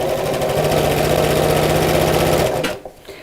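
A sewing machine stitches steadily across elastic on a car seat organiser, running with a loud, even mechanical whir that stops abruptly near the end.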